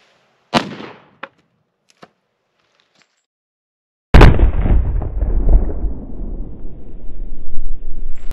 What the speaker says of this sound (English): I'm going to try a good old-fashioned aim shooting.